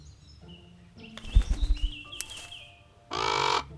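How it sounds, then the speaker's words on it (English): A single harsh raven croak rings out near the end, preceded by scattered clanks and faint tonal sounds in a quiet setting. "he was startled awake by a bird. Not any bird. A raven"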